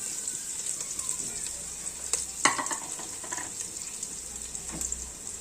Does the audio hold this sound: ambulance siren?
no